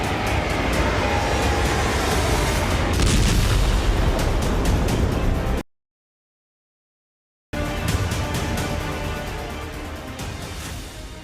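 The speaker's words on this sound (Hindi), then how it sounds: "ठीक उसी समय बेलगरोद के आसमान में बहुत बड़ा धमाका हो गया" Huge explosion of a Russian IL-76 transport plane in the sky over Belgorod, heard as loud rumbling booms and crackling blasts, cut by a brief stretch of silence before further sharp, heavy detonation noise resumes.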